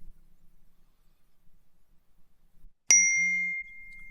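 A single bright ding sounds as a FileMaker text message arrives through Twilio SMS, ringing out with a short sustained tone after near silence.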